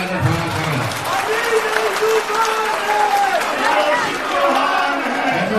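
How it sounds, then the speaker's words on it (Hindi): Applause and cheering from a crowd at a political gathering in Ganj Basoda, with loud, sustained clapping mixed with chatter and overlapping voices. "एक बार जोरदार तालियां बजाकर स्वागत करें"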